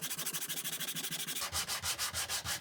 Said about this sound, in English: If not, you will have to continue sanding with the same paper.